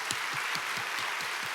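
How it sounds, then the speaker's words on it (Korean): Steady applause from a church congregation, a dense even patter of clapping with a faint rhythmic thump underneath, no talking. "이 시간을 빌어서 한번 박수하면 좋겠습니다"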